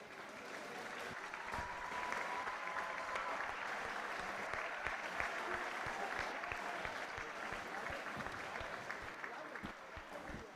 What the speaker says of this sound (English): Big round of applause for Tayyib.